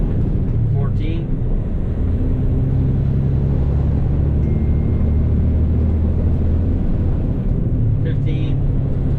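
A Kenworth T880 truck accelerating up through its gears onto a highway after leaving a quarry, a loud continuous low engine rumble and road drone heard from inside the cab, with brief shift transients near the start and end.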